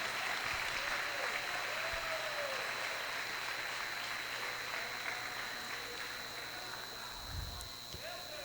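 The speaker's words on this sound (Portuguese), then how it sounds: "aplaude ao Senhor." A church congregation applauds during a sermon, a faint, continuous wash of clapping that holds steady and thins slightly toward the end.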